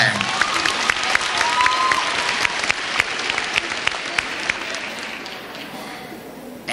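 A crowd applauds steadily at the 2014 IESA junior high cheer competition morning awards for a small team cheer placing, with cheers and shouts rising over dense clapping before it thins out near the end.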